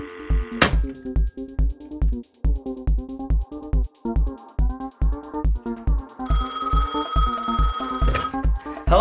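Electronic telephone ringtone at an antiques shop, repeating in a steady rapid pulsed pattern, loud and close, with a brighter higher-pitched tone joining near the end.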